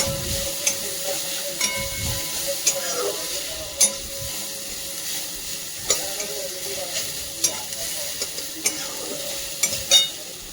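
Spice paste with tomato fries in a pan for a vegetable kofta curry, a continuous hiss under irregular clinks and scrapes of a spoon against the metal, close and moderately loud.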